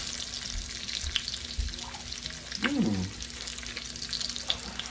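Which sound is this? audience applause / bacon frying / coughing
bacon frying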